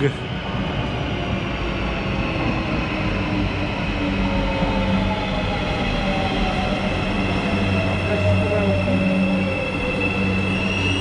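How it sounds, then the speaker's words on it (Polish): A train arriving at a station in Istanbul rumbles steadily nearby, with a low mechanical drone and rising and falling tonal whines, continuous and loud throughout. "I nadjeżdża nasz pociąg."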